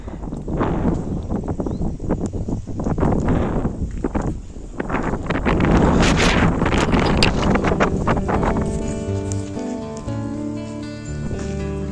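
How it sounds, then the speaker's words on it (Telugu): Strong evening wind in a village buffets the microphone with loud, gusting roars, swelling and easing over several seconds before soft music tones come in near the end. "ఫుల్ గాలి"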